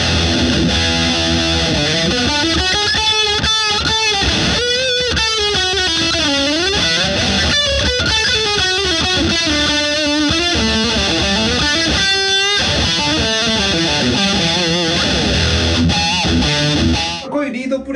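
A French-made Marceau Guitars Telecaster-style electric guitar plays a sustained lead line through heavy distortion, with bending, singing notes ringing loud and continuous before cutting off at the end.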